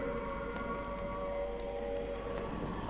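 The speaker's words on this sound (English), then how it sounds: "The noise that you hear at the moment is the sound of the air raid siren." A distant wartime air raid siren in London, heard from the steps of St Martin-in-the-Fields, holds a steady wailing tone, faint and sustained beneath a broad background rumble.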